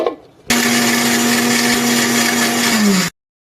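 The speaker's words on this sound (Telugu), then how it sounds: "మనము దీనిలో దీనిలో కొంచెం పాలు పోసుకుని ముందుగా మనము మూత పెట్టేసుకొని మిక్సీ వేసుకుందామండి" Mixer grinder blending banana, dry fruits and milk: a loud, steady motor whine with churning that starts abruptly, runs continuously for about two and a half seconds, dips slightly in pitch as it slows, then cuts off.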